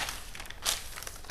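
Paper pattern being cut along a dart leg, a quick run of close crisp crinkles and snips with one sharper rustle near the middle.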